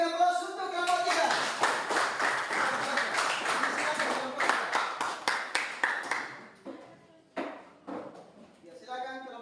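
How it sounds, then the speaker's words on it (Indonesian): Classroom applause for a student group at a school presentation: a burst of many hands clapping together that thins into scattered claps and fades out, with voices briefly audible near the end. "kita berikan aplaus untuk kelompok 3"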